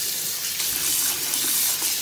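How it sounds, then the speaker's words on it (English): Fresh okra being lifted out of a sink of washing water, with steady splashing and trickling running close and continuous throughout, no talking. "I'm just showing you how to lift the okra from the water"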